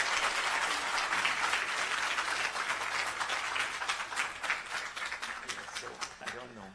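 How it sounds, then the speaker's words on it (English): Audience applause fills a hall at a Mother's Day speech event in New York, a steady wash of clapping that holds loud for several seconds, then thins and tapers toward the end. "Give them a big round of applause."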